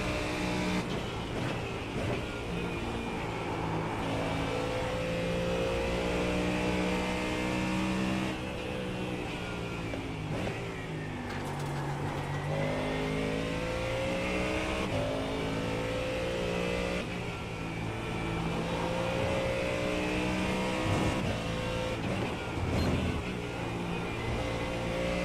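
Several NASCAR Cup Series race cars in a racing video game drone and rev steadily at Atlanta, engine tones rising and falling as cars run three wide, loud and continuous throughout.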